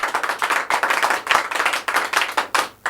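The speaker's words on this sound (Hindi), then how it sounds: "बच्चों के लिए भी एक बार जोरदार ताली हम भी बजा लेते हैं।" A group claps hands loudly in a hall during a school event honouring students who passed their intermediate exams, the uneven claps running steadily throughout without talk.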